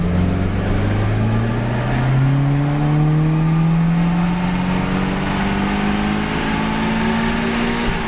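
A car engine revs steadily upward under turbo boost set by a Turbosmart e-Boost2 electronic boost controller, its loud, continuous drone climbing in pitch over several seconds with no talking.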